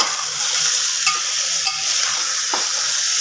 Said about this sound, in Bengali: রসুনের কাঁচা গন্ধটা যতক্ষণ না চলে যাবে ততক্ষণ একটু নাড়াচাড়া করতে হবে